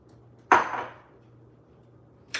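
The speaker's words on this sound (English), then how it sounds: "I'm just chopping it in little pieces" A knife chops broccoli on a cutting board with one sharp knock, then a second at the very end, both close and clear over a faint low hum.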